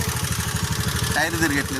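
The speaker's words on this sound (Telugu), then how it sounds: "ఓకే, ఇప్పుడు ఇంజన్ ఆన్ అయిన సౌండ్. ఇది ఇంజన్ ఆన్, టైర్ తిరగట్లేదు." A two-wheeler at a driving school idles with its engine running and the wheel not turning, giving a steady, rapid low putter close by, with a voice briefly audible toward the end.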